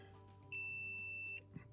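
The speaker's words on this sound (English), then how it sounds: "We should hear a beep, and that means that the fuse is good." A continuity tester on a good fuse from an LG washer gives one steady, clear electronic beep lasting under a second, fairly loud over a faint background hum.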